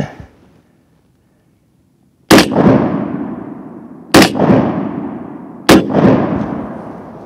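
A Daniel Defense DDM5 .308 rifle fires three loud, sharp shots about two seconds apart at a target roughly 15 feet away, each crack followed by a long rumbling echo.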